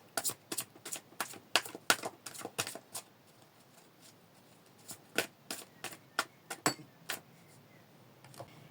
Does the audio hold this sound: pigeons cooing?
no